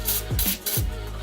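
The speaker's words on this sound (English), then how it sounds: "I'm gonna spray down some penetrating fluid" Penetrating fluid sprayed onto Porsche front suspension parts in a garage: three short, close hissing aerosol bursts in a quick series, separated by brief pauses, with low background rumble.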